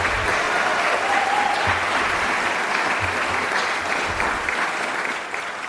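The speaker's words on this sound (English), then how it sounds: "Please give him a round of applause." Sustained applause from a crowd at a State of the County address, steady and dense clapping throughout, fading slightly at the end.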